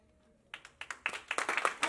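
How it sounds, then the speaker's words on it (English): Clapping from a small audience at a children's magic show, starting after a brief quiet moment and building into a dense run of sharp, close hand claps that grows louder over about a second and a half. "They just need lots of clapping."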